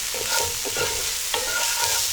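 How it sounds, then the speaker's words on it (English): Chipotle pork with allspice and coriander is stirred in a hot pan. A steady close sizzle runs throughout, with a few soft spoon scrapes and taps against the pan. "and give that a stir"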